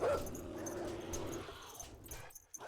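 Dogs in a kennel in the survival game 7 Days to Die give a short yelp, then scattered yips and whimpers under a steady background rumble, fairly faint.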